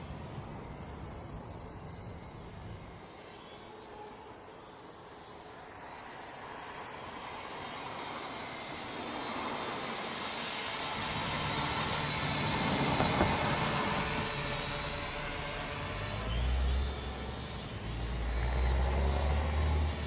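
Holy Stone F181G quadcopter with geared brushed motors, giving a steady droning whine that swells and shifts in pitch as it climbs and descends, continuous and fairly loud with no talking.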